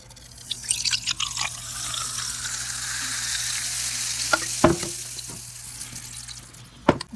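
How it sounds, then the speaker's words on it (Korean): Drink poured into a cup, a fizzing, crackling stream with small drips and a few sharp clinks, close and fairly quiet, with no voices. "여기 컵에다 비울 건데 이렇게 해서 소리가 좀 들릴 건가?"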